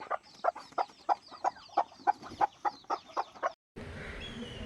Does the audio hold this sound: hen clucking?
yes